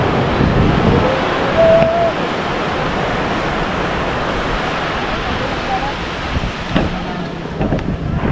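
Steady roar of surf and wind at Sabang Beach, Baler, fills the whole stretch, with waves washing continuously; people talk and shout intermittently over it.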